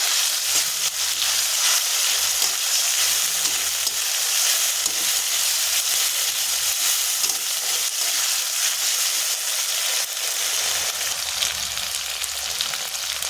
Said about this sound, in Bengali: মশলাটা দিয়ে আমি ভালো করে নাড়াচাড়া করে নেব।